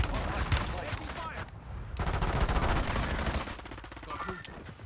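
Rapid gunfire in a video game, bursts of shots crackling loudly and near across most of the stretch, with a brief lull, under excited talk from players.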